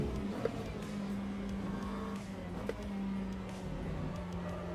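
A McLaren race car in Le Mans Ultimate drones along at a steady engine pitch, with small shifts in revs and a couple of faint clicks, moderately quiet, no talk.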